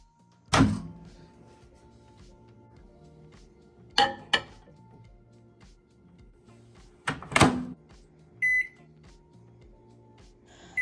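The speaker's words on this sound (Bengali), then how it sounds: "এখন আমি মাইক্রো ওভেন দিয়ে দিচ্ছি" A microwave oven heating dal, with a steady low hum broken by several sharp thunks of the door and handling, then a short beep near the end, all close by.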